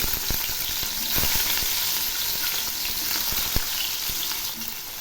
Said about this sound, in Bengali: এক পাশ ভাজা হয়ে গেছে, এবার উল্টে দিচ্ছি।